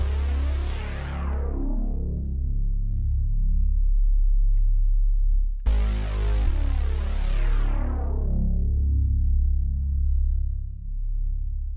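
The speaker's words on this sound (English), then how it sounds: "I then put on this synth bass from the Rev 2" A deep Rev 2 analog synth bass plays two long, sustained notes, each opening bright and buzzy before its filter slowly closes down into a dark, rumbling low end.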